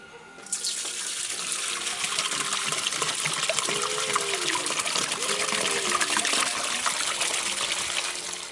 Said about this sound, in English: So I'm going to pour the POR15 and water mix back into this metal can